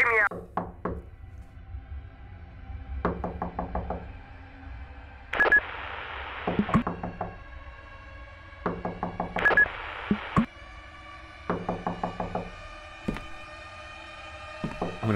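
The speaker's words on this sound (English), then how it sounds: "I've been knocking for hours." Repeated knocking on a door in the horror video game Fears to Fathom: Ironbark Lookout, coming in several distinct bursts of rapid raps separated by pauses, with other thuds and faint in-game sounds between them.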